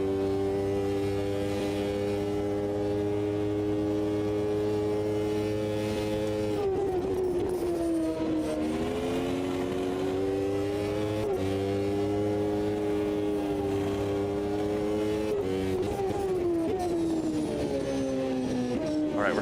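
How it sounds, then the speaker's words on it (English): Formula One race cars in the Automobilista 2 sim scream through gears at the Portuguese Grand Prix, engine notes rising and dropping in repeated sweeps, with other cars droning in the distance and no talking. "I love the sound of the cars in the distance. You can hear them."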